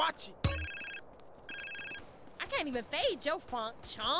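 A mobile phone rings in the video game GTA San Andreas: two short, bright electronic ring bursts close together, followed by someone talking.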